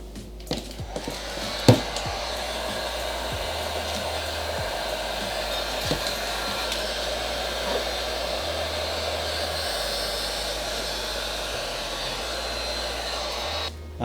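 A heat gun blows a steady, loud airflow roar while warming vinyl tint film on a car headlight, holding constant with a brief thump near the start and no talking.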